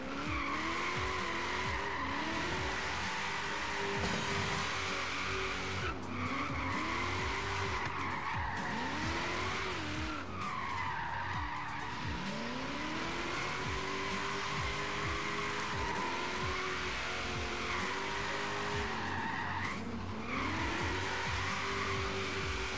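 A Lexus GS 350 F Sport on 20-inch wheels slides through a long drift in Forza Horizon 3, with continuous loud tire squeal over a revving engine whose pitch rises and falls as the car slides, and no talking.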